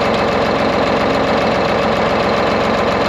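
A V12 engine in a 1973 Peterbilt 352 cabover truck idles close by, loud and steady with an even, rapid pulsing rumble throughout and no voices.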